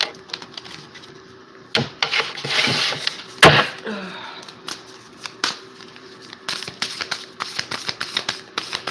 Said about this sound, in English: let me just pull a few cards